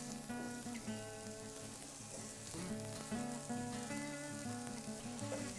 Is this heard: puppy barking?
no